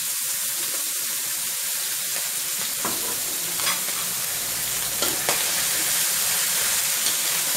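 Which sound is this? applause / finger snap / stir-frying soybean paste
stir-frying soybean paste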